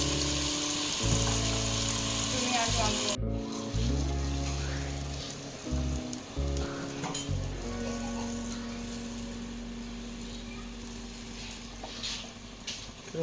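Potatoes and peas for an aloo matar curry fry in a pan with a loud, steady sizzle, broken briefly by a sharp cut before the frying carries on more softly.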